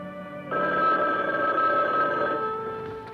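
An old-fashioned telephone bell rings in a 1980 horror movie trailer, one sustained metallic ring that starts suddenly, holds steady and slowly fades, with no talk.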